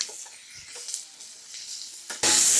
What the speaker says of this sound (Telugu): మూడు పచ్చిమిరపకాయలు ఇందులో వేసుకొని వేయించుకుంటాను